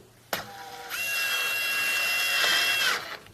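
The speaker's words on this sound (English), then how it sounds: "now you can use the frame as a guide for drilling your second hole." A power drill bores a mounting hole for an adjustable miter fence stop on a 4x6 bandsaw, one continuous high whine of about three seconds that starts abruptly and winds down, close and alone.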